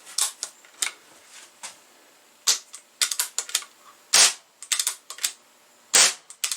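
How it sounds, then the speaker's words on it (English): A CO2 airgun fired with no pellet over a chronograph lets out a series of sharp, hissing gas bursts at uneven intervals, with a few louder pops among lighter clicks in a quiet room. "So it actually does read just the spray from the gun."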